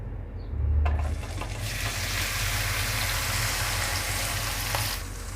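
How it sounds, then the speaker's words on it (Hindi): Okra dropped into a wok of hot ghee with crackled cumin and fenugreek seeds, giving a sudden loud burst of frying followed by a steady, dense sizzle that continues evenly throughout, with no talking. "ज़ीरे के चटकने के बाद अब हम इसमें डाल देंगे भिंडी।"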